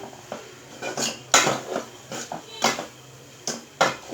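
Meat sautéing in a pot: a spoon scrapes and clinks against the metal in uneven bursts, close by, over a faint low background.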